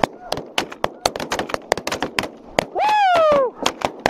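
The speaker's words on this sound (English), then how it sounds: "Oh yeah, he's going down too. Boom, boom. Shoot him." Sharp, closely spaced shotgun blasts ring out during a snow goose hunt, a rapid volley of loud cracks with a goose-like honk or call rising midway over them.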